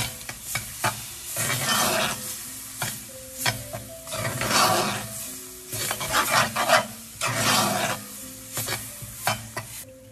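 Roasted eggplant being stirred with red chili powder in a pan, spoon scraping in irregular bursts over a soft sizzle, close and moderately loud with no voices.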